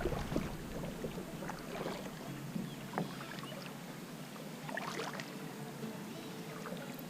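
Kayak paddling on Hidden Lake in the Pocono Mountains, with soft, irregular paddle strokes and water splashes close by over a steady outdoor background and light wind, no talking.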